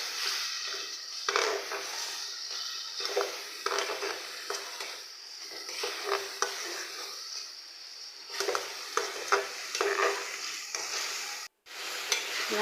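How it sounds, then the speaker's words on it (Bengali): Chili, coriander and turmeric powder with salt stirred and sautéing in a pan for goat nihari, a steady sizzle with repeated scraping stirs throughout, close and continuous with no talk. "এরপর দিয়ে দেব মরিচ গুঁড়া, ধনিয়ার গুঁড়া, হলুদের গুঁড়া, স্বাদ মতো লবণ। এগুলো দিয়ে ভালোভাবে কষিয়ে নেব।"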